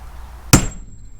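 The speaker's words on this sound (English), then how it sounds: "Take the best tool in the shop, claw hammer." One sharp metallic strike from a claw hammer tapping an indent into a Xterra door latch part, close and loud, followed by a short ringing tone and then quiet.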